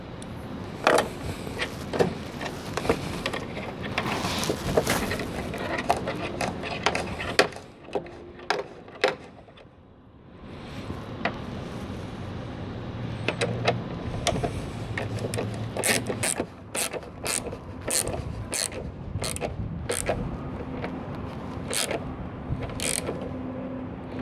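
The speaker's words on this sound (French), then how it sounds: "Je remets mon écrou de 10 en haut." A ratchet tightens a 10 mm nut on a Citroën C3 tail light in quick bursts of close, crisp clicking, with a short pause midway before another run of sharp clicks.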